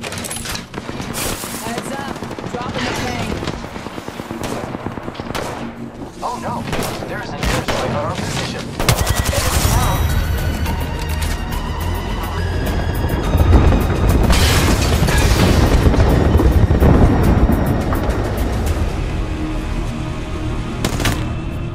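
Heavy gunfire and booming impacts in an Apex Legends Season 7 match, sustained automatic bursts and thuds for over twenty seconds, loud and close, with a voice talking over the action.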